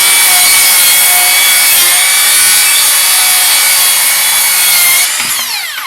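A Makita 36V cordless circular saw rips through wood with a loud, sustained high-pitched whine and cutting rasp, close up, then winds down as the blade spins to a stop near the end.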